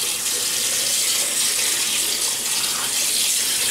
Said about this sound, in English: let me wet the face.